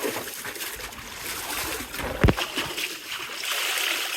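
Medicated water poured from a mixing vessel into drinker containers for day-old broiler chicks on a poultry farm, a steady wash of splashing and trickling with one brief heavier gush midway.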